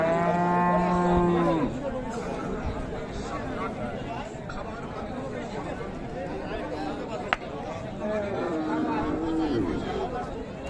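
A cow moos with a strong, harmonic call at the start, followed by further lowing amid the crowded chatter of a busy Raniganj cattle market, with people talking throughout.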